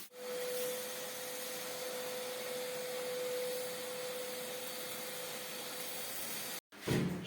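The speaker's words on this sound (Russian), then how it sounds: "Там у нас стоит пылесос, все пылесосим." A vacuum cleaner runs steadily while cleaning a floor being prepared for a self-leveling pour, a continuous loud whine with a constant hum, cut off abruptly near the end before a short clatter.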